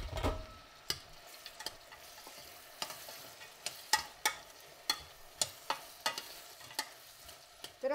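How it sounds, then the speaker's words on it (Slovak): Corn kernels frying in butter in a pan, a soft steady sizzle broken by sharp clacks and scrapes of stirring at irregular intervals, close and fairly quiet, with no talking. "Orestujeme troška kukuricu na tomto masielku."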